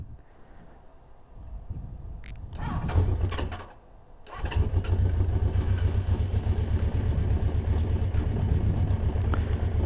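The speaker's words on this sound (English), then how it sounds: "So let's start this thing up and we'll go for a little ride." A 1981 Honda CB650 motorcycle cranks and catches, briefly dips, then settles into a steady, loud, somewhat rough cold-start idle close by, with no talking.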